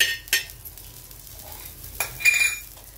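Green chillies fry gently in an oil-filled pan, with a soft sizzle under a couple of sharp metal spoon scrapes and clinks as they are stirred, no voices.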